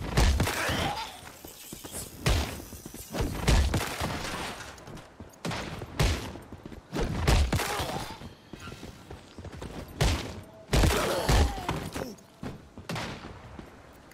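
Gunfire in an open world survival video game: repeated loud bursts of shots in irregular volleys, separated by short gaps, with brief speech between them.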